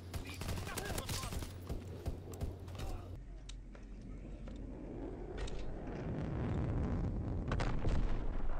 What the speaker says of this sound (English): Launching V2 rocket.